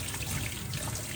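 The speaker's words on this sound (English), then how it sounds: "So now let's wash our hands" Tap water runs steadily into a sink during handwashing, a short continuous splashing rush, close and fairly loud, with no talking.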